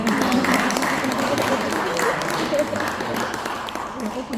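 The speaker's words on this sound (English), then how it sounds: "Quick round of applause for him" A room of attendees at a presentation on the International AI Copyright Organization gives a quick round of applause. The clapping is sustained and moderately loud, with voices mingled underneath, and it gradually thins toward the end.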